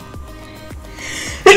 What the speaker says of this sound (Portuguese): Vocês sabem que eu espirro em todos os vídeos